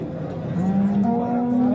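Large cattle at the Yangiqo'rg'on livestock market in Buvayda district, one loud nearby cow giving a single drawn-out moo that rises in pitch partway through, over low market background noise.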